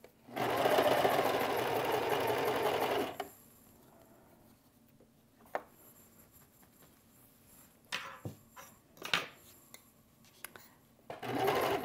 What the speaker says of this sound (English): So once you've got them all pinned, start chain sewing again.